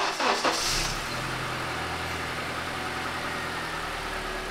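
A 1979 Chrysler Cordoba engine, recently repaired after a head gasket job, catches with a brief surge and then settles into a steady, smooth idle rumble, moderately close and without speech.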